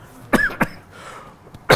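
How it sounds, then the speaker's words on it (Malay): A person with an itchy cough coughs several times: two sharp coughs close together, a small catch of breath, then a louder cough at the end. The coughs are close and clear against a quiet room, with no talking. "dia batuk gatai"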